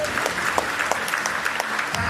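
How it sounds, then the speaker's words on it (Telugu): A congregation claps in rhythm during New Year celebrations at a Calvary church in Bellampalli, with steady, evenly spaced hand claps from a group ringing out over a hall's murmur across the short stretch. "అది చప్పట్లు కొట్టారు."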